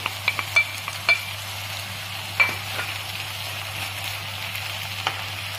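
Potatoes, onion and chicken sizzle steadily in a pan, a constant frying hiss broken by a few sharp pops and clicks, with a low hum underneath.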